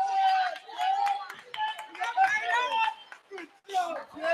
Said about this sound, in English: Crowd continuing to file in,